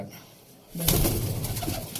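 Malbai pigeons, kept as flying pigeons in a loft, coo close by after a sudden rush of wing-like noise, and the cooing then continues steadily.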